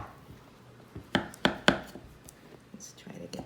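A knife cuts a lemon square in a baking pan, giving three sharp, quick knocks against the pan over a faint, quiet kitchen background.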